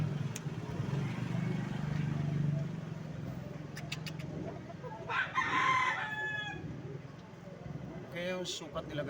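Gamecock roosters crow in a farmyard, a clear crow rising midway over a low background hum, with faint clucks and engine noise nearby.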